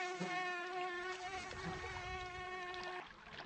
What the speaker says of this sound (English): Mosquitoes aren't as bad here,